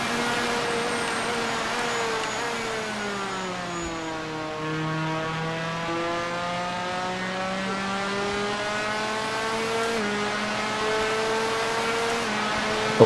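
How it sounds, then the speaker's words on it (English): A two-stroke motorcycle engine in the MotoGP 4 video game racing at Phakisa Freeway, held at high revs with a steady buzzing whine that dips and climbs through gear changes, continuous and close, with no talk. "Keep the revs high on this two-stroke."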